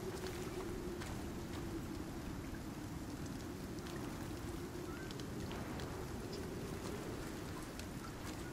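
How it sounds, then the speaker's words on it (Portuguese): Steady rain falling in the survival game Icarus, a dense, even hiss of downpour with a low rumbling wash underneath, continuous and fairly quiet throughout with no talking. "Tá só chovendo, não tá tão escuro"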